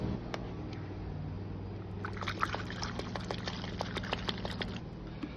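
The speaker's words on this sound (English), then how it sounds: "fill up about halfway, and then the rest with water" Water pours into a container to dilute a cleaning solution, a steady trickle with small splashes and a few light clicks, fairly close and moderately quiet, running under a low hum.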